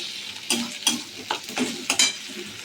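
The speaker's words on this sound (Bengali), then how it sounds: "আস্তে আস্তে করে টমেটোগুলো একটু গলিয়ে দেবো" Tomatoes soften in a pan of soybean curry, with a spatula stirring in about five sharp scraping strokes over a low sizzle, near and clear with no speech.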